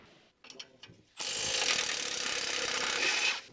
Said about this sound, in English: With the large size electric impact wrench, remove the lower mounting bolt and nut on the rear shock absorber.